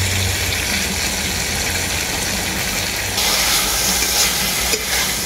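Egg greens are stir-fried in a pan with potato and eggplant masala. There is a steady, close sizzle and hiss, with a stronger burst of frying partway through and faint stirring scrapes; no one talks.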